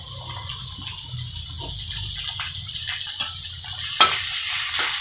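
Garlic and ginger fry in a pan with a steady, soft sizzle and a low background rumble, punctuated by one sharp clack near the end.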